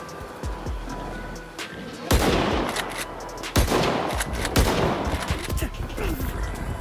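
A shotgun loaded with buckshot fires at boars in S.T.A.L.K.E.R. 2. Two heavy, booming blasts ring out close by against a noisy, rumbling game backdrop.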